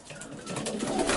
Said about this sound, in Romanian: Am câteva porumbei de la domnul Elisei